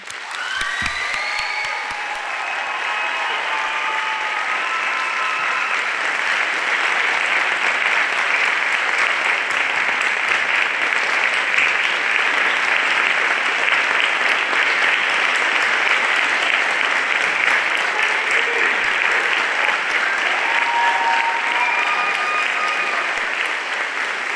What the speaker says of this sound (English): please just take a moment to give our cast members a round of applause once again.